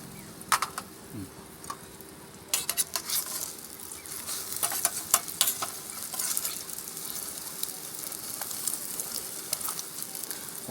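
An omelette fries in a pan at a rainy-season campsite, a soft steady sizzle running throughout, with brief scraping and tapping from a utensil stirring near the start and middle.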